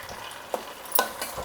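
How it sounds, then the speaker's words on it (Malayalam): Ingredients for payasam are stirred and sautéed in ghee, with a soft continuous sizzle and a few quiet scraping strokes of a spoon in the pan, faint and close. "നെയ്യ് ഒഴിച്ച് നന്നായിട്ട് വഴറ്റിയ ശേഷം"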